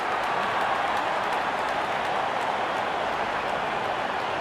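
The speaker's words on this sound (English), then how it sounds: "And there comes the celebration, and the crowd loves it." A cricket crowd at an India versus New Zealand match cheers and applauds after a wicket, forming a dense, continuous roar of clapping and shouting that stays loud throughout.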